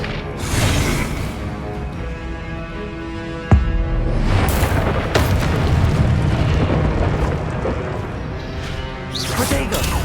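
A Confringo spell explosion in Hogwarts Legacy, with loud booming blasts and whooshes over continuous game action and a sharp crack midway.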